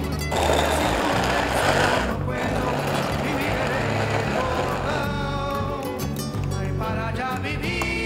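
A food processor grinds red curry paste ingredients with a steady, loud motor whir that runs through the whole stretch, while someone talks over it.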